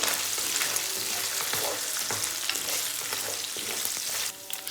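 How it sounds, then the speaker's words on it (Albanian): Potatoes frying in olive oil in a pan over strong heat, a steady dense sizzle with small crackles and pops throughout, close and continuous, dropping slightly at the very end. "Me njëherë tiganin me vaj ulliri, direkt patatet, dhe i lëmë të marrim një skuqje të lehtë."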